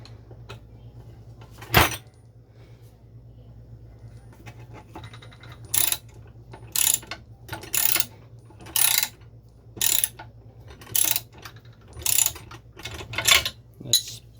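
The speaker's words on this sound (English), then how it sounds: "I just tightened it nice and firm with the ratchet" Ratchet tightening bolts on the lower control arm of a 1977 C3 Corvette, about ten short bursts of rapid clicking in a steady rhythm, close and distinct, after one sharp clank.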